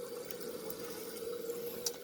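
Water runs steadily into a tank, a constant trickling pour with light splashy detail and a faint resonant tone, close and alone without voices.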